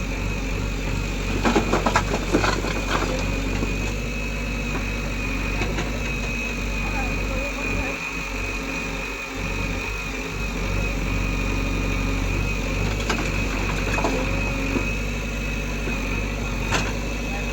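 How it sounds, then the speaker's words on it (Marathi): A JCB excavator and a 49 HP tractor rumble and idle continuously at moderate distance while loading gravel at a factory site, with occasional clanks. "मशीन 30X JCB आणि अजून एक मशीन आहे इथं 49 HP ची, पलीकडे चालू आहे"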